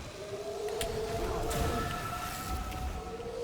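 A monster in the video game Sunless Skies lets out a siren call: a wavering, tonal, whale-like wail that rises and sustains over a rumbling ambient bed, fairly loud and unaccompanied by speech.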